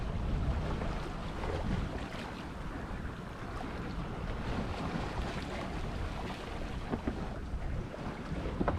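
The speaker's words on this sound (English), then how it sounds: "here we are, just gently cruising out of the Falmouth Bay." A sailboat cruises gently out of Falmouth Bay, with steady wind noise on the microphone and water washing along the hull, a constant rough rush with no voices.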